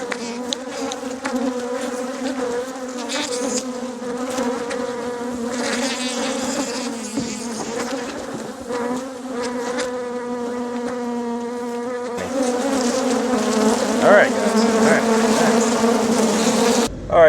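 Angry bees swarming close around a microphone outdoors, a loud, continuous buzzing drone with overlapping wingbeat tones that rise and fall as insects dart past, growing denser toward the end.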